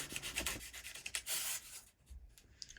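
Foam for a duct tape, foam and PVC sword is cut by hand in short rough scraping strokes, close and uneven, ending with a brief quieter stretch of smaller scrapes.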